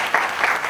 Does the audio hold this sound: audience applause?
yes